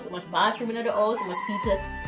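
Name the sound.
rooster crowing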